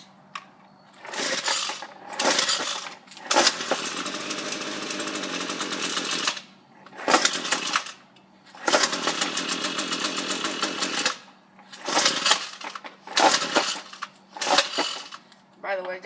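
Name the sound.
weed eater engine cold start attempt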